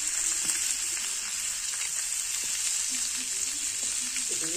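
Crab frying Malvani style in a pan gives a soft, even sizzle with faint crackle, moderately quiet and continuous, with a few light stirring touches.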